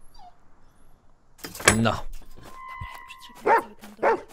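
Dog in the video game In Silence whimpering and barking in a few short yelps and whines, interleaved with a nearby person talking.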